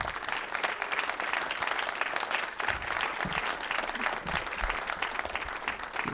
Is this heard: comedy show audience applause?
yes